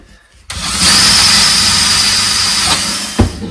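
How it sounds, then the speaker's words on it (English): A power drill whirs up sharply and runs at a steady high pitch for about two seconds, drilling a hole in a floor, then winds down, loud and close. "So I'm going to drill a hole right here."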